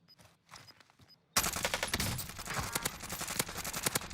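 Rapid bursts of automatic gunfire in Call of Duty Warzone, a dense, loud volley of shots that begins abruptly after a few faint distant pops and continues steadily to the end.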